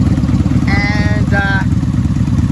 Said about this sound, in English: hear that engine sounds super smooth. So good engines on both bikes.